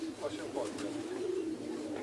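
Racing pigeons returning to the home loft after a race from Strasbourg coo softly and repeatedly, close by, while people talk quietly in the background.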